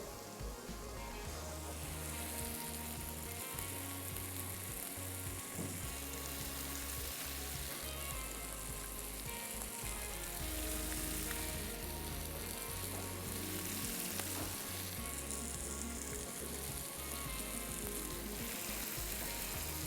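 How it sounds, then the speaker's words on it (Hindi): Tart shells frying in oil over a low flame, a dense, continuous bubbling sizzle that stays loud and even throughout with no voices. "साथ साथ टाट के जो शेल्स हैं वो भी धीमी आंच पे हम करते हैं फ्राई"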